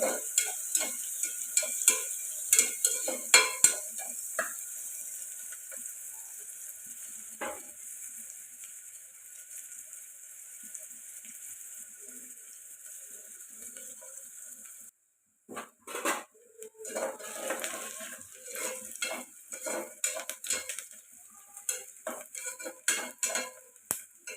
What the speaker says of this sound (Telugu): ఉల్లిపాయలు అయితే ఫ్రై అయ్యాయండి